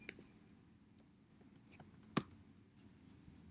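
Faint clicks of computer keyboard arrow keys pressed while working in Adobe Illustrator, a few soft scattered taps and one sharper click in a quiet room.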